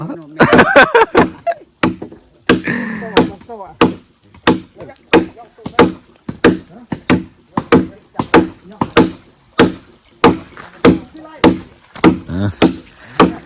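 Hammer blows ring out at a steady, repeated pace as boards are fixed down for a wooden bridge floor reinforced with steel clamps. The strikes are loud and close, with people talking briefly near the start.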